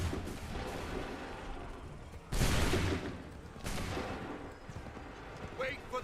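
Musket volleys in Assassin's Creed III, several broad bursts of gunfire, one loud volley near the middle and another soon after, with shouted commands between them.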